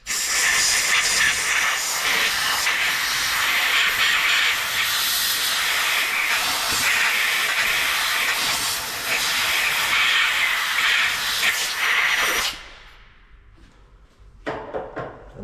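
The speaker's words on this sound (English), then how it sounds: "we're going to blow with the compressed air between the piston and the surface of the" Compressed air blasts steadily into a brake caliper being rebuilt, blowing trapped brake fluid out from between the piston and caliper surface. The loud, continuous hiss runs about twelve seconds, then cuts off, followed by a brief weaker burst.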